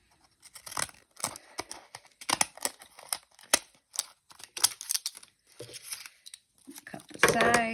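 Scissors snip repeatedly through envelope paper to make a junk journal tab, a series of crisp close cuts in an uneven rhythm, ending with paper crinkling and handling.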